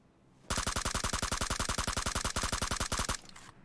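Automatic gunfire in PUBG Mobile: one long, loud, rapid burst of about thirty evenly spaced shots, close by, ending abruptly with a short tail of echo.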